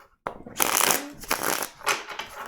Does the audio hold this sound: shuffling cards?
yes